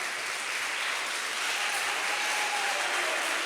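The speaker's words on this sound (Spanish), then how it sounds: "Aplauda con fuerza." A church congregation claps together during a worship service, a steady dense wash of applause that holds evenly throughout with no voices rising above it.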